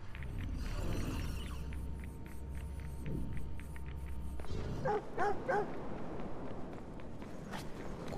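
A dog barks in the Watch Dogs 2 video game: a few close yips and barks break in midway over a low hum of in-game ambience and footsteps.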